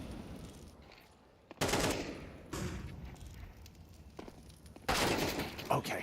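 Bursts of gunfire in a Counter-Strike 2 tournament match, loud sharp volleys at intervals with quieter stretches between, mixed with game ambience and faint crowd or caster voices.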